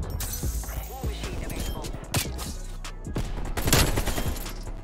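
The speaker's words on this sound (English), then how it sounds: "Wait, I just got shot through something." Gunfire from Call of Duty: Black Ops Cold War strikes the player's character, sharp bursts and impacts clustered near 2 and 3.7 seconds over a busy game soundscape, with a person talking over it.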